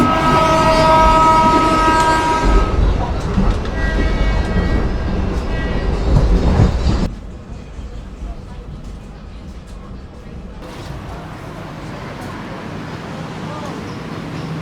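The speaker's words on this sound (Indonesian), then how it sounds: "kereta api Sri Lela Wangsa telah tiba di tujuan akhir stasiun Binjai" Sri Lela Wangsa passenger train pulled by a BB 203 locomotive, arriving at Binjai station: loud rolling and rumbling with a horn-like tone for several seconds, then a quieter steady hum as it settles.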